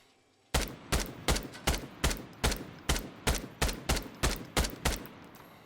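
A budget weapon in Arena Breakout Infinite fires about twelve evenly spaced, single shots, each loud and sharp with a short ringing tail, with no talk over them.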